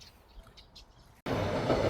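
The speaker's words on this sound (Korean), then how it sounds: "일광역 가는 지하철이 바로 앞에 있구나." A subway train passes near Ilgwang station: after a quiet stretch of scattered birdsong, a loud, close, broadband rumble cuts in abruptly and holds steady to the end.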